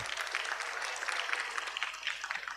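An audience applauds a religious teacher, Ustadz Hafiz, at a Ramadan gathering, with steady, moderately loud hand clapping running unbroken through the whole stretch.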